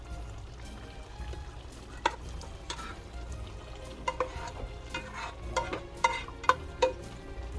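Pasta going into a creamy Jamaican curry goat sauce and being stirred in a pan, with soft sizzling and wet stirring under a few louder scrapes and clinks of the spoon toward the end.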